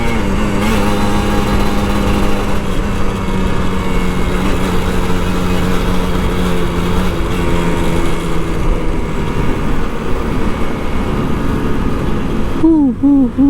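Engine of an older Kawasaki Ninja RR 150 motorcycle revving on a Jakarta commute, loud and close with a continuous droning buzz and shifting pitch, ending in a brief rising whine.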